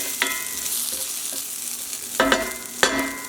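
Onions with balsamic frying in a pan are stirred, giving a continuous soft sizzle with a few sharper scraping and clinking strokes of the utensil, close and quiet, with no talking.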